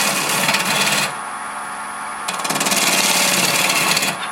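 Bowl gouge roughing out a natural edge bowl on a wood lathe, a loud, close, continuous broadband scraping and rasping with uneven pulses that drops away briefly before the cutting resumes.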